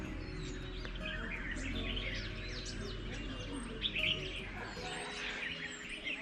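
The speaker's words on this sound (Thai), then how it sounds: "เดี๋ยวผมจะให้ฟังเสียงธรรมชาติจริง ๆ เสียงนกดูฮะ" Several birds chirp and tweet in quick, overlapping calls against a steady low outdoor hum on Doi Ang Khang mountain, fairly faint and without speech.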